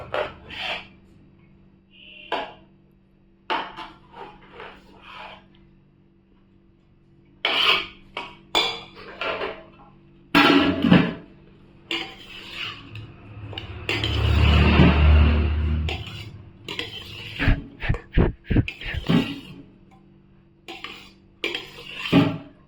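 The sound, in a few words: ladle scooping biryani rice into another bowl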